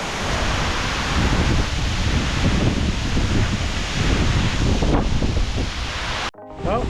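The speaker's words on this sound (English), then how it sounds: "as you can see upwards, beautiful wee little waterfalls coming off it." Small waterfalls spill off a moss-covered rock wall near the base of Devil's Punchbowl waterfall at Arthur's Pass, a steady, close broadband rush of water that cuts off abruptly near the end.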